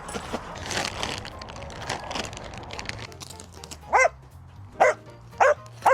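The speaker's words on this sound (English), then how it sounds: "I got 1 dog barking at dirt" Several sharp dog barks ring out, close and loud, in four separate bursts after a few seconds of scratchy, rustling background noise during a house renovation; the dog is barking at dirt on the ground.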